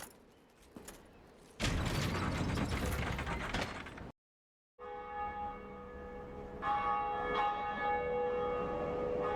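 A large church-style bell tolls in the Dark Souls video game, a dense metallic clang that rings out, cuts briefly to silence, then returns as a long sustained hum with rich ringing overtones.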